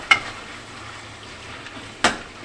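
Tomatoes being stirred in a karahi for chicken charsi karahi, with two sharp spoon scrapes against the pan about two seconds apart over a soft, quiet sizzle.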